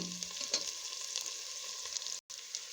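Nigella seeds and cumin sizzle steadily in hot oil in a pan, a close, continuous frying hiss with a brief break near the end.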